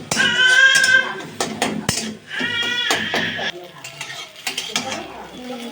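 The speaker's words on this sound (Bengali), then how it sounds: "এবার ডিমটা ফাটিয়ে আমি কড়ার মধ্যে নিয়ে ডিমটা আমি ঝুড়ি ঝুড়ি করে ভেজে নেব।" A spatula stirs and clatters against a wok as a cracked egg is scrambled and fried for chow mein, giving loud, irregular scraping bursts with some sizzle beneath, close up and without talk.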